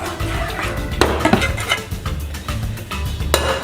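Pasta and ground turkey stirred together in a pan, a steady run of scraping, tapping utensil clatter with a few sharper clinks against the pan, close and continuous throughout.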